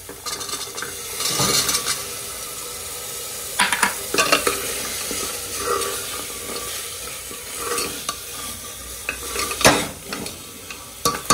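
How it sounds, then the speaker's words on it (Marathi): Boiled chickpeas being sautéed and stirred in an oily masala gravy, with a continuous close sizzle and repeated scraping, clattering strokes of a spoon on the pan, and no talk. "एक 2 मिनिटं चांगलं परतून घेऊया आपण छोले"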